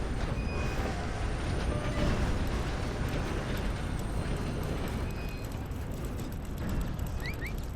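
A video game train rumbles past with a steady, dense roar and faint wheel squeals near the end, continuous and fairly loud throughout.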